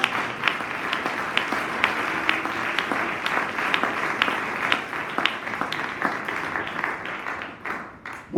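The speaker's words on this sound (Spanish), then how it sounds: "Den un aplauso al Señor Jesús" Church congregation applauding, sustained crowd clapping with rhythmic peaks lasting several seconds before fading, fairly close.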